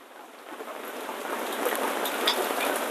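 Heavy rain falls outdoors, hard enough to put out a fire, as a steady hiss that grows gradually louder with no talking.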